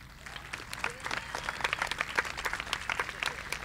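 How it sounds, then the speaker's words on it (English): At a high school graduation ceremony, an audience breaks into applause for honored graduates; scattered claps swell into a full, fairly distant round that keeps going. "Please give them a round of applause"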